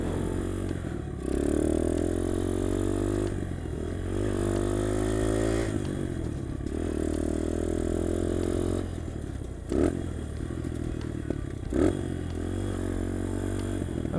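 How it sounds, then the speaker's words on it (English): A motorcycle ridden by someone still learning to shift and rev-match, its engine droning steadily with recurring rises and dips as gears change, punctuated by brief pops and clattering bursts. "I'm still getting used to shifting. It's making a lot of pops right now"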